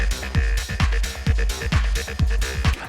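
A punchy drum loop with booming kicks and crisp snare hits in a steady, repeating groove, loud and up front with no talking.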